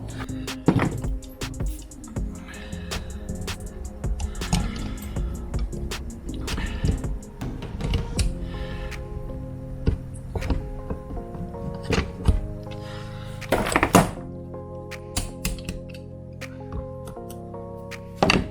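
Metallic clicks, taps and scraping as a circlip is worked into a Garrett GT3576R/GT3582R turbo housing during an XR6 turbo rebuild, with irregular close-up handling noises and a few sharper snaps.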